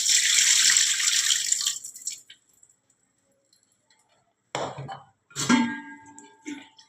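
Rice being rinsed in water, with a burst of running, sloshing water at the start, then near silence, followed by short splashy swishes of the grains being washed.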